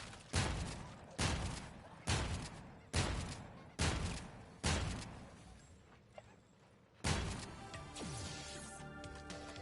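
Shotgun fire in Call of Duty Infinite Warfare, six heavy booming blasts spaced about a second apart, each decaying into a ringing tail, followed by a longer impact with rattling debris.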